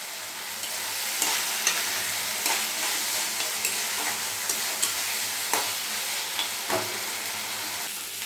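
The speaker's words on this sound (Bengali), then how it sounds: "এখন আমি এই আলু তুলে রাখা আলু ভাজাটা দিয়ে দেবো।" Fried potatoes go into a pan of sizzling spice masala for a Bengali fish curry with potato and pointed gourd, giving a steady close-up sizzle broken by several sharp scraping stirs of a spoon, with no talk.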